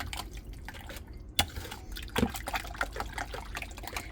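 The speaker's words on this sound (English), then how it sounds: "I'm whisking it with a whisk" A hand whisk beats thick cream cheese in a bowl, making close, irregular wet clicks and soft sloshing taps with a few sharper knocks against the bowl's side.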